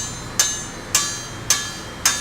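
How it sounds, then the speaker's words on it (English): A ball-peen hammer strikes metal on an anvil in a traditional metalworking shop, four sharp ringing blows at an even, steady pace, close and loud with short metallic decays and no talk. "I love hearing that ball-peen hammer on the metal, on the anvil."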